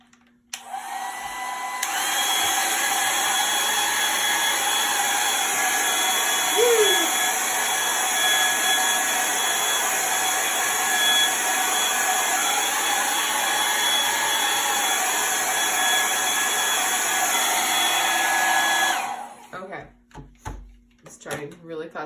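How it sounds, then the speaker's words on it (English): A hair dryer roars steadily at close range for most of the clip, then switches off, leaving faint handling noises. "I have this hair dryer that I bought, and we're just going to quickly dry this."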